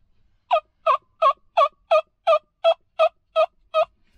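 Ten evenly spaced, clucking yelps from a turkey tube call ring out close and clear with no talk, each short burst repeated at a steady rhythm, like a hen turkey calling.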